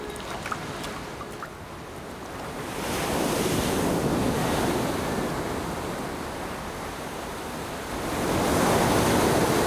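Ocean surf breaks against a rocky shore, a loud roaring wash that swells twice as waves roll in, mixed with wind buffeting the microphone.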